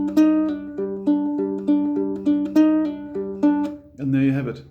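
A ukulele plays a riff with pull-offs, a repeating pattern of clear plucked notes played twice through, ending on a strummed chord.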